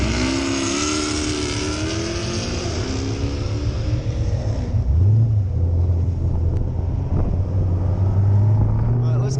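Cars leaving a car meet accelerate hard, including a twin-turbo Audi R8. Loud engine roar climbs through rising pitch sweeps, then shifts into a lower drone as another pull builds, with wind noise over it.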